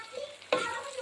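Onions with ginger-garlic paste frying and being stirred in a pan for a Mangalorean prawn curry, a steady close sizzle with a louder scrape-and-stir burst midway.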